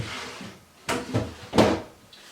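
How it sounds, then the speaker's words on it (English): Wooden slides on white oak dresser drawers, fitted with mid-century modern handles, give a few short, close, smooth sliding strokes with soft knocks. "The wooden drawer slides are sliding really nice and clean."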